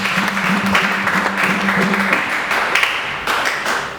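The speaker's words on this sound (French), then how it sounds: "Clap your hands for Jesus." Congregation at a bilingual French-English church service clapping hands together, a dense, loud, steady patter of many hands close by, with voices faintly underneath.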